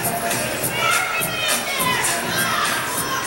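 A crowd cheers and shouts at a women's university basketball game between Western and Brock, a busy, continuous roar of voices with higher yells rising and falling across the arena.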